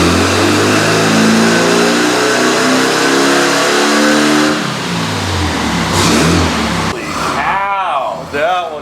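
A small VW Beetle engine revs hard and loud, holding a high roar before dropping off; a few sputtering bursts follow near the end, with no talking.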